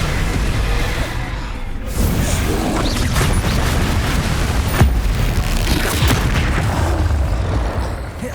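Spell blasts from Hogwarts Legacy boom and crash one after another, heavy impacts and rumbling bursts over a constant roar of combat, loud and close.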